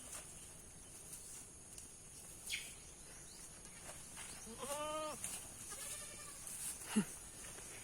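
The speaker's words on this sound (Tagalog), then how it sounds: "aking mga alagang kambing" A few goats bleat in wavering cries over a quiet outdoor background with insects chirping; the calls are moderately distant and sporadic.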